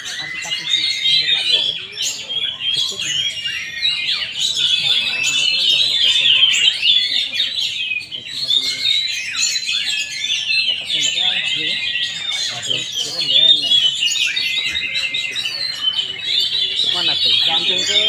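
Oriental magpie-robins (kacer) sing in a bird contest in Palembang, a dense stream of shrill, rapid chirps and warbling phrases from several birds, continuous and loud, with voices chattering faintly underneath.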